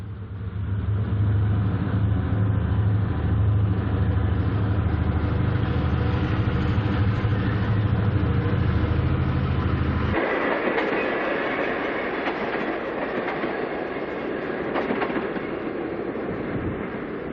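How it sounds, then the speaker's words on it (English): A diesel train pulling away from a station, its engine drone strong and steady at first, then giving way to broader rumbling and rattling of rolling cars that continues loud and close throughout. "With the station stop completed, the train starts to move out of town."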